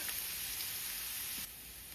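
Onion sizzles steadily in a hot frying pan, a dense hiss with faint crackles that drops slightly in level near the end, with no talking.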